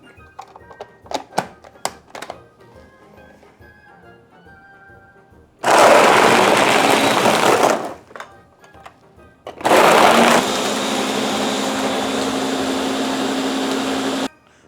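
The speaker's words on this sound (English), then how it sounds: "let's watch our blender work its magic" A blender crushing ice for a Kool-Aid slushie roars loudly for about two seconds, stops, then runs again steadily for several seconds, preceded by a few light clinks and knocks.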